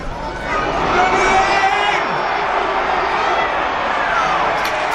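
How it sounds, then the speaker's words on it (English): A rugby league crowd at a Huddersfield Giants versus Catalans Dragons match roars and shouts in a sustained, swelling wash of voices, loud and continuous across the stadium. "I can't tell you how much I've missed the get him onside cries from the crowd."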